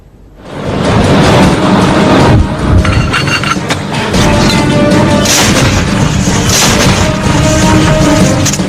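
Howitzer artillery fires, a heavy booming blast rising out of near quiet, then a loud, sustained rumble with crashing impacts that carries on to the end.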